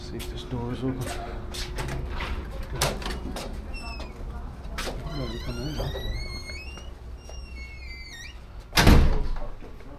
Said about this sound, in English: See if this door is open.